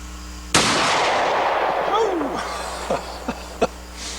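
A rifle with a set trigger and an old hard brass butt plate is fired from a shooting bench. A single sharp, loud shot is followed by its decay and a few faint knocks, while a voice speaks nearby.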